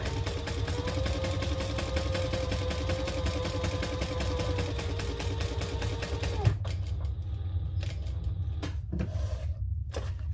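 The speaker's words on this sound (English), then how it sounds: "Now I'm going to sew all the way around the box" A sewing machine stitches around the box section of a purple crossbody bag, running in a steady, continuous whir for about six seconds before stopping, leaving quiet handling sounds behind.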